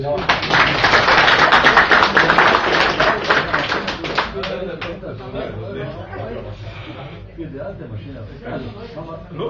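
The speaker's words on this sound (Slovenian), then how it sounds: "tako da se tudi njej pritiče en aplavz" Applause at an autumn chestnut picnic, a crowd clapping loudly for a few seconds, then fading into scattered claps and murmuring chatter.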